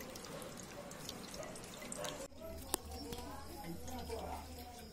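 Water being poured and mixed with milk in a bowl for puppies, quiet splashing and trickling with a brief clink, while someone talks over it.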